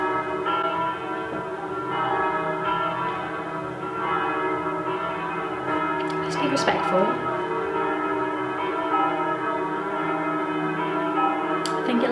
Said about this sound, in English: Should we wait for the bells to stop?